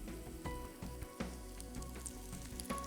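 Aloo tikki potato cakes fry in a pan, giving a steady close sizzle with small crackles and occasional soft taps, with no voices.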